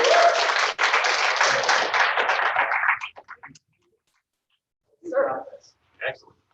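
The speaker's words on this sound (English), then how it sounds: "Give him a round of applause." Applause during a virtual black belt test session, a burst of clapping for about three seconds that trails off into a few sparse claps, followed by short bits of noise.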